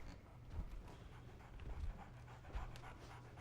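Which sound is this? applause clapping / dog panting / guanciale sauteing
dog panting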